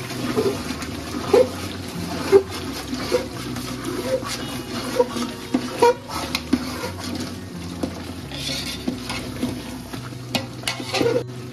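Water splashes into a large batch of frying masala for mutton achari, with stirring and faint sizzling in a big pot heard throughout.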